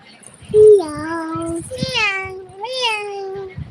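A person imitates a cat meowing, with a few drawn-out, wavering meows close by and soft talking in between.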